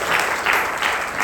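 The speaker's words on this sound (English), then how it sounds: "Let's give him a round of applause." Steady applause from a speaking club audience, a dense wash of clapping that swells slightly a few times over a short burst.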